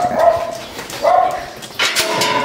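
Puppies rescued from the street yelp and whimper in short, close, high-pitched bursts, with a few quick barks in between.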